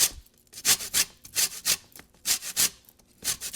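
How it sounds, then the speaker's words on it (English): Lemon zest grated on a fine kitchen grater, a series of quick rasping scrapes in short uneven bursts, close and fairly loud, with no talking. "So I'll grate the"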